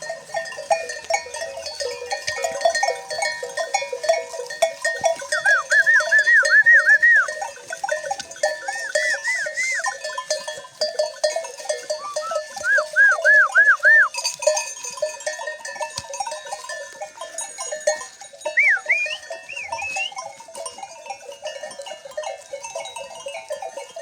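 A flock of sheep is driven up a mountain on a snowy highland, with repeated wavering bleats rising over a steady bed of animal noise and clanking bells, some calls close and others farther off.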